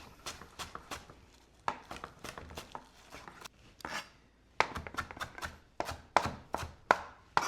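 Knife chopping fresh cilantro on a board for guacamole, close crisp taps in quick irregular bursts with brief pauses between runs.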